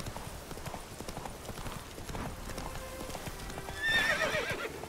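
Roach, the horse in The Witcher 3, clip-clops along in a steady run with rustling game ambience, then lets out a short neigh near the end.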